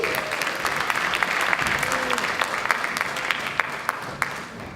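Audience applause at a high school awards ceremony greeting the principal being introduced, steady dense clapping from a large crowd throughout, fairly near and even in level.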